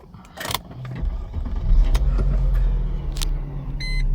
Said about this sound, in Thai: เสียงเครื่อง นิ่งดีนะฮะ